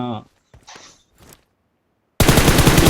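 A sustained burst of automatic gunfire sprays continuously in a video game, loud and close, following a few short bits of speech.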